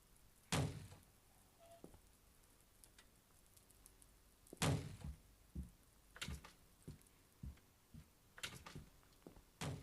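A door is banged on in a horror video game, two heavy thuds several seconds apart followed by a string of lighter knocks and clatters, fairly faint and with no talking.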